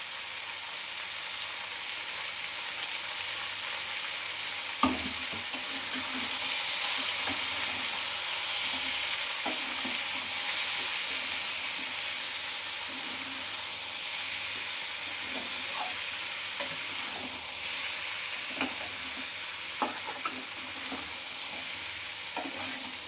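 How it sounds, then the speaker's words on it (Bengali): Mango pulp seasoned with Kashmiri red chilli powder fries in a pan with a soft, constant sizzle and hiss, broken by occasional scraping clicks of stirring. No one speaks. "আমের রসটা আমি এটা ভাজা ভাজা করে শুকিয়ে নেব।"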